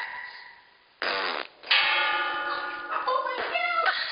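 A cartoonish fart effect from a G-Force and Hamtaro episode: a brassy, buzzing blast that cuts out, then a longer wavering, tonal raspberry that sputters and pulses toward the end.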